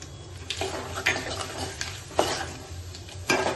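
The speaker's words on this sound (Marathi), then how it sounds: "गॅस घालून हलवत राहू म्हणजे मसाला जळणार नाही." Turmeric and spice masala stirred in a pan for Marathi katachi amti, with a soft sizzle under repeated scraping and clinking strokes of the spoon every half second or so, and no voices.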